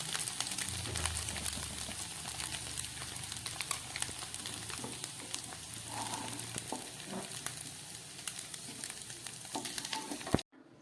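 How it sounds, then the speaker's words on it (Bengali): An egg fries in hot oil in a wok, making a steady, close crackling sizzle with small pops throughout that cuts off abruptly at the end. "ডিমটা আমার ফ্রাই হয়ে গেছে, এর চেয়ে বেশি কড়া করে আমি ভাজবো না"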